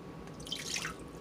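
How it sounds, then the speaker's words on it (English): Water is poured from a cup into a medium pot for candy making, giving a short, close splashing and trickling sound. "we're going to go ahead and add the water."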